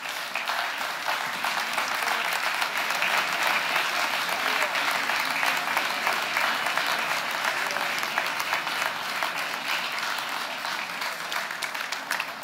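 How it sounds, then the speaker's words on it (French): A hall audience at a mayor's New Year ceremony breaks into dense, sustained applause that holds steady for the whole stretch, with no voices standing out. "pouvez les applaudir"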